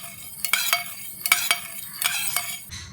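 Food colouring being stirred into water in a bowl while making motichoor laddu, heard as a spoon knocking and scraping against the bowl in quick, sharp strokes in close pairs, loud and close with no talking.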